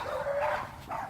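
Dogs barking and yipping at a distance while the Texas sun sets, a few soft barks spread across a short stretch over steady outdoor background noise.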